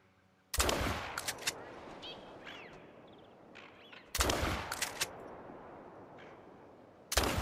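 Three loud shotgun blasts ring out while hunting outdoors, spaced a few seconds apart, each one followed by a long, fading echo and rumble.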